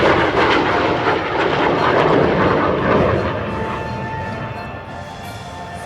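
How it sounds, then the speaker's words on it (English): A World War II P-51D Mustang flies in formation with a USAF F-22 Raptor at the Cold Lake Air Show. The engines give a loud, sustained roar that swells and then eases off slightly as the aircraft pass. "a World War II era P-51 Mustang Val-Halla"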